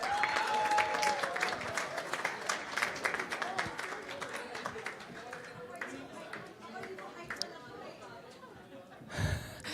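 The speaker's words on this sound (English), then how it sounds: "one more round of applause, please, for our stars as they take their seats" An audience at a press conference claps in a dense, lively burst that fades over several seconds into scattered claps, with chatter and voices mixed in and a loud thump near the end.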